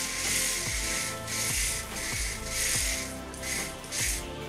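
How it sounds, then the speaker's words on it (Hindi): Hair spray from a 75 ml can is sprayed onto hair from about 30 centimetres away, a series of soft hissing bursts in steady rhythm, close and fairly quiet. "तो इस तरीके से 30 सेंटीमीटर का दूरी रखते हुए हम इसे अपने बालों पे स्प्रे करेंगे।"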